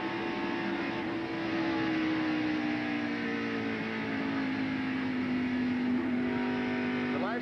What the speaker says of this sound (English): We're inside Harry Gant's car